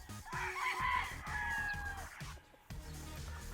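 Sweater gamefowl roosters crow nearby, with several loud, drawn-out calls overlapping one another against low background noise.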